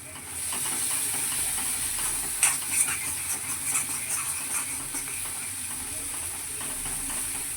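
Masala for a spicy chicken curry sizzles and hisses in a hot pan, a steady close frying sound with a few brief scraping stirs in the middle.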